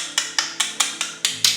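Knuckles rap on the all-metal housing of a Godox SL60W LED video light, six sharp, evenly spaced knocks about a fifth of a second apart, close and fairly loud with short bright decays.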